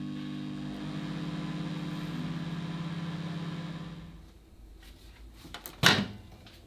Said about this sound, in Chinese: 耐热的保鲜膜包好160克南瓜，微波炉中高档打2分钟。